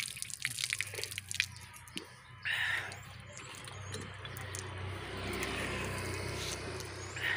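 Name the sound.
water gushing from hand pump shallow well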